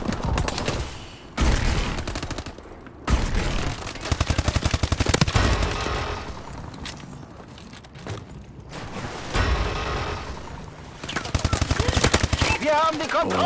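Rapid automatic gunfire in a Call of Duty Advanced Warfare multiplayer team deathmatch, loud repeated bursts with short pauses, and a voice talking over parts of it.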